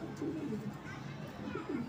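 Soft racing pigeon cooing repeats in low, throaty phrases against a steady background hum, close by and moderately loud.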